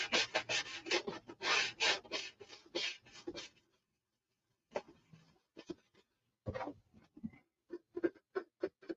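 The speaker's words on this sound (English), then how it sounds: "Just about start sanding on this." Hand sanding on a Flite Streak model airplane: bursts of dry rasping strokes, rapid and fairly loud at first, then a pause followed by shorter, sparser scrubbing strokes close by.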